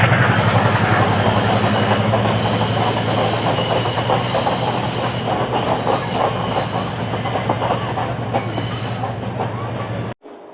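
A train rolls past close by near the Singamalai Tunnel in Sri Lanka, a steady loud rumble with rhythmic wheel clatter and a faint high squeal, cutting off abruptly near the end.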